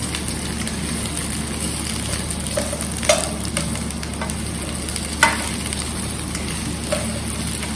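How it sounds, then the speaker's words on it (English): Red, yellow and green capsicum and zucchini sizzle and hiss steadily in a pan on high flame while being stirred, with a few brief clinks of the spoon against the pan. "Red, yellow, green capsicum, zucchini, and go on stirring on high flame."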